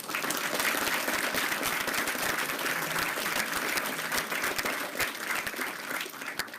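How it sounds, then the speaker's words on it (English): Sustained applause from an audience honouring a World War II veteran lieutenant colonel: a dense, full wash of many hands clapping that holds steady and eases slightly toward the end. "Round of applause for you."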